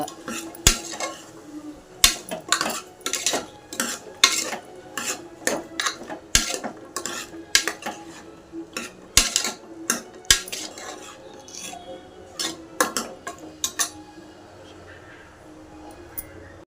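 Masala being sautéed in a pan for sambar, with sharp metal clinks of a spoon scraping and tapping the pan in irregular bursts, soft sizzling underneath and a voice talking at times.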